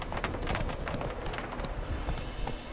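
A horse gallops in the video game The Witcher 3: Wild Hunt, its hooves making quick, steady, rhythmic clip-clops on the ground, close and continuous, with no voices over them.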